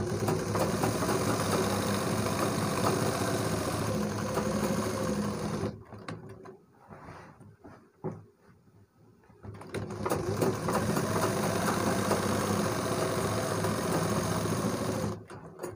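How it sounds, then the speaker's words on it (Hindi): An electric sewing machine stitches a side pocket onto a kurta in long steady runs of rapid mechanical whirring. It stops briefly in the middle for a few soft handling sounds, then starts up again at full speed. "और इस तरीके से यहाँ पर सिलाई लगा देंगे।"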